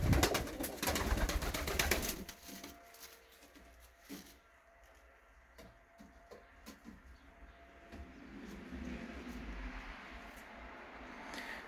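Domestic pigeons in a loft, with a burst of wing flapping and scuffling at the start, then soft cooing and rustling that stays fairly quiet through the rest.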